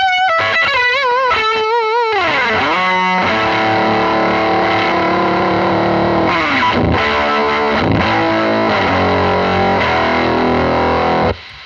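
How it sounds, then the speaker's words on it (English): An electric guitar through an old-school Fuzz Face fuzz pedal: a few bent opening notes, then loud, thick, saturated chords that ring out and sputter, ending abruptly. "it sounds like almost like the amp is collapsing, which is kind of what a fuzz face to me sounds like an old school one"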